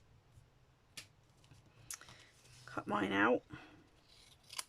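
Scissors snipping out a stamped paper birthday greeting for a handmade card, a short close burst of cutting near the middle after a few small clicks, with a brief spoken word nearby.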